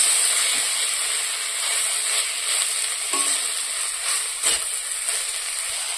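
Paneer bhurji sizzles in a pan over a medium flame, giving a steady, dense frying hiss that runs continuously with slight swells and no talking over it.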